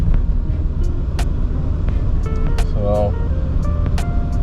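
Inside a car with a faulty clutch on a test drive, a loud steady engine and road rumble dominates, with scattered clicks and a brief tonal whine, while a person speaks briefly.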